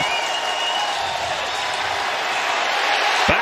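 Roaring stadium crowd at a Cincinnati Bengals home NFL game against the Vikings, a dense, continuous wash of cheering and noise from thousands of fans on a third-down play, steady and loud with no clear talk.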